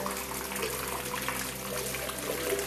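Irrigation water flows steadily from a tube into plant pots in a small-space crop garden, making a continuous close splashing trickle that holds an even level throughout with no talk.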